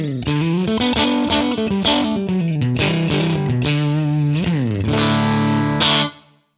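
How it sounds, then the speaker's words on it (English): A second electric guitar played through a Fractal amp modeler with added reverb rings out in distorted chords and bends, loud and sustained, before stopping abruptly near the end. "give this second player a little bit of reverb, and we've got a second guitar ready to go."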